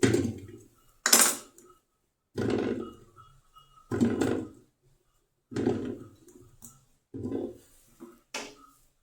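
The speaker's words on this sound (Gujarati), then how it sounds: "આપણે નાના નાના બટેટાને આ રીતે કુકરમાં નાખી દઈશું" Small potatoes dropping one handful at a time into a metal pressure cooker, giving about seven separate hollow clunks and rattles spaced by short pauses, close and clear with no talking.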